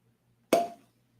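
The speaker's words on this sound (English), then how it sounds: "Cork pop." A cork pops once from a bottle of Booker's bourbon whiskey, a single sharp, close plop that fades quickly against a quiet room.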